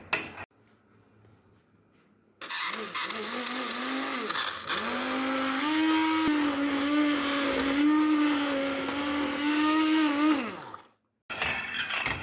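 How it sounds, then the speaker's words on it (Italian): An immersion blender whirs for about eight seconds, its pitch wavering as it churns through thick plum jam, starting and stopping abruptly. "lo frulliamo con un frullatore ad immersione"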